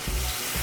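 Baked lemon pepper chicken fresh from the oven sizzles and crackles in its pan, a steady close hiss with a couple of soft low bumps as the dish is handled.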